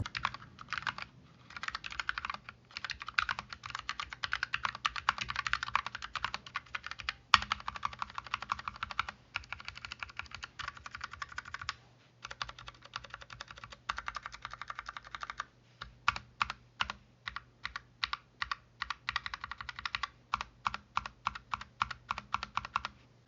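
A FNATIC Streak65 LP low-profile keyboard gets typed on in bursts of quick, close, clacky keystrokes, some runs dense and others broken into separate taps with brief pauses, no voices.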